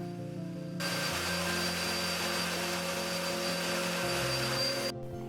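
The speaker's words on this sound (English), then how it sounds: "I need to vacuum clean." A vacuum cleaner whirs on loudly and runs with a steady droning hum, its pitch shifting slightly, then briefly cuts out near the end.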